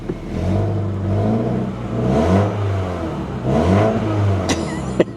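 A Chevy Tahoe SUV engine revs up and settles in repeated surges, a low throaty rumble with a raspy, leaky exhaust edge from an exhaust leak, close by, ending with a couple of clicks.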